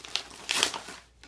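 Gift wrapping paper crinkles and tears as a present is unwrapped, two short bursts of crumpling close by with a quieter rustle after, fairly soft overall.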